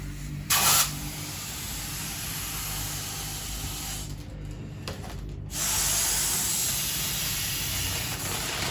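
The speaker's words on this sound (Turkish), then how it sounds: "O pipeti takıp üfleyerek şişiriyorsunuz." Letter balloons are inflated by blowing through a straw, giving a long, continuous breathy hiss with a brief louder burst near the start and a slight rise later, heard close up without talk.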